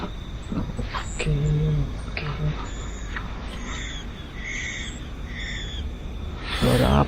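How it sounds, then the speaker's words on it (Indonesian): A bird calls at night in rice fields, giving a few low hooting notes and some higher chirps against steady outdoor night noise, with faint voices nearby. "Suara burung."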